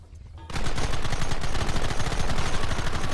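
A Gatling-type machine gun fires in the Red Dead Redemption video game. After a half-second lull, it unleashes a loud, sustained burst of rapid shots that rattles on without pause to the end.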